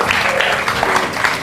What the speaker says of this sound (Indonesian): Tepuk tangan dulu dong buat Rere Regina